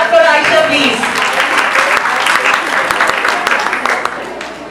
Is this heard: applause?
yes